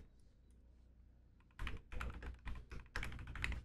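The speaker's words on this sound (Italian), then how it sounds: "che bello il rumore di questa tastiera" Someone types quickly on a computer keyboard close by after a quiet start, with bursts of crisp, clacky keystrokes arriving in uneven clusters and no voices over them.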